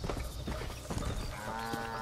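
Cattle herd in the Red Dead Redemption video game, a dense mass of hooves and low animal calls passing close and loud for the whole stretch, with a steadier tonal drone emerging near the end.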